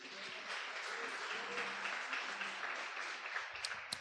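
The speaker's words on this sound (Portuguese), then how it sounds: "Você pode aplaudir o Senhor." A church congregation applauding at a service, a soft, distant, sustained patter of clapping with no words over it.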